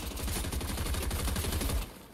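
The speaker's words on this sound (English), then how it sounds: "They're shooting at me." Rapid automatic gunfire from the video game Fortnite rattles in a steady, fast stream of loud, close shots for nearly two seconds before cutting off abruptly.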